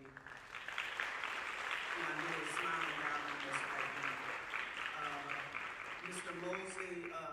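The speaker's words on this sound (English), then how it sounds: "So just give a round of applause for that young lady." A crowd at a high school band holiday concert applauds a young woman honored at the event; thick continuous clapping fills the room while voices call out and talk over it throughout.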